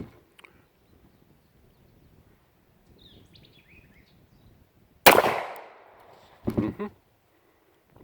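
Two sharp, loud gunshots from a used PT 745 Pro pistol, the first with a longer ringing tail and the second following about a second and a half later, after near silence with faint outdoor ambience.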